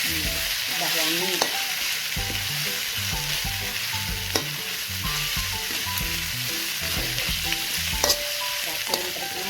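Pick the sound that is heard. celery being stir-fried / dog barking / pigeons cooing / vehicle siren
celery being stir-fried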